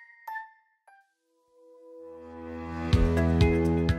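A notification bell sound effect: two light, high dings, then a pause, then a swelling chime that rings out in bright repeated strikes, clear and alone with no talk.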